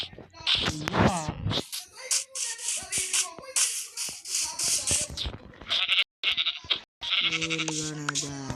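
Goats bleat in a farmyard: several short, wavering calls scattered among shuffling and rustling, ending in a longer, strongly voiced bleat, with people's voices now and then.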